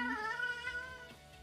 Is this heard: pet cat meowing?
yes